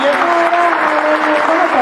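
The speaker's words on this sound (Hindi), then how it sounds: "एक बार जोरदार तालियों से स्वागत करिए।" An audience at a Hindi poetry gathering claps to welcome poet Ankita Singh, loud sustained clapping over the whole short moment, with a steady tonal hum underneath.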